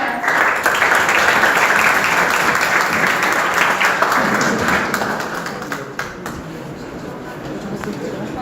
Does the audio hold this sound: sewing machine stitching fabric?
no